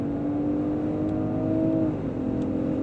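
Steady engine hum of a 2024 Range Rover Sport P400 under acceleration heard from inside the cabin, with a sustained drone that shifts pitch as the transmission downshifts, moderately loud with no talk.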